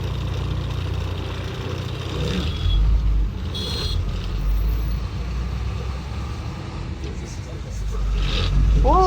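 A container truck's diesel engine running nearby, a constant low rumble with some louder swells, heard under people talking.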